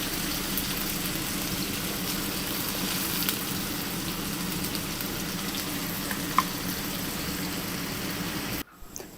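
Ginger and garlic sauté in a hot pan for chicken fried rice, giving a steady, close hiss and crackle that runs unbroken for several seconds before cutting off near the end.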